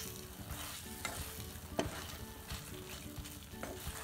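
Grated bottle gourd fries in a pan for halwa, giving a soft steady sizzle with faint stirring scrapes, quiet and close, no voices.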